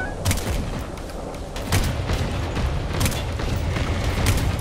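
Explosions and gunfire ring out during a battle in the video game Angels Fall First, with several sharp booms and bursts landing over a dense, continuous rumble of combat.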